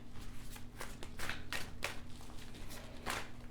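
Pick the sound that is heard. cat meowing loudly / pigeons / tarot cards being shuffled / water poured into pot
tarot cards being shuffled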